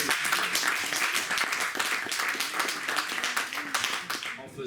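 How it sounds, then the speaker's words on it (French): An audience at a comics festival forum applauds, with dense clapping that holds steady, then thins slightly near the end, with some voices mixed in. "Et je vous invite donc à l'applaudir à son tour."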